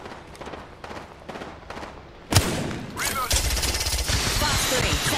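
Gunfire in the Apex Legends video game bursts out suddenly after quiet chatter, then rattles on loud and dense in rapid automatic volleys.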